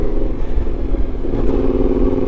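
A motorcycle engine runs steadily up close on a trip through African countries, giving a loud, continuous rumble with slight throttle variation and no speech.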